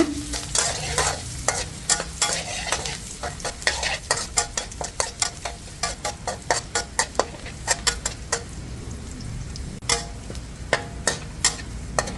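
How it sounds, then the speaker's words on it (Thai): Garlic frying in oil in a hot pan while a home cook stir-fries a Thai cabbage sprouts and minced pork dish, steady sizzle under repeated sharp scrapes and clinks of a spatula against the pan. "ต่อไปก็ใส่กระเทียมลงไปเจียวค่ะ"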